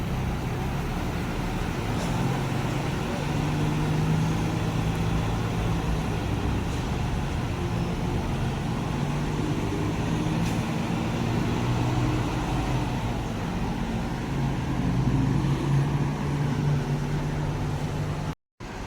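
A bus pulls away from a terminal shelter amid busy traffic, heard as a low, steady engine and road rumble at moderate distance, continuous with no speech.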